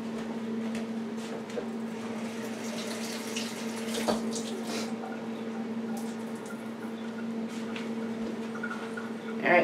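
Tap water runs steadily into a sink as fresh garden vegetables are rinsed beneath it, a constant hiss with a faint hum and occasional small splashes, fairly quiet and alone.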